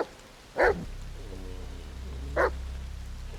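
A dog in The Medium video game gives two short, sharp barks about two seconds apart over a soft, rain-like background ambience.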